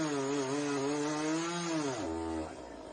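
A chainsaw in the video game Nobody Wants to Die revs loudly and steadily, its pitch rising and wavering before dropping to a lower idle near the end.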